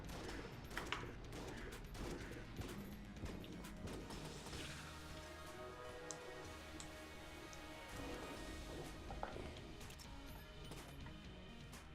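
A pulse cannon fires in the game Enter the Gungeon amid a dense, chaotic battle: rapid bursts of impacts, crashes and gunfire-like blasts pile over continuous background music, with no clear gaps.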